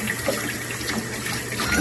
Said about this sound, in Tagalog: Mani atong hugasan.